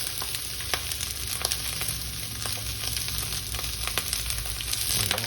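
Marinated beef and onion stir frying in a pan sizzle loudly and continuously, with frequent sharp crackles and spatula scrapes, and no one speaking.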